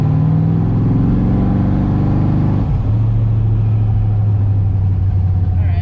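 A car engine managed by a Holley Terminator X system revs up to about 3000 rpm and drops back to a steady idle, loud and close, with no talking.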